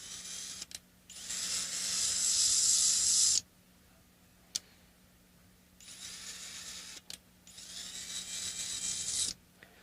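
A drill bit cuts into roasted maple wood on a Telecaster-style guitar build in several bursts, a hissing, rasping whir that starts and stops with short pauses and small clicks between runs.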